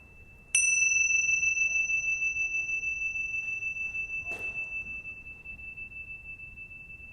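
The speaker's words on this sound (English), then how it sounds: "What I'll do is begin and end the meditation with a bell in the traditional way." A single traditional meditation bell is struck once and rings with a clear, sustained tone that slowly fades over several seconds in a quiet room, with a faint soft tap partway through.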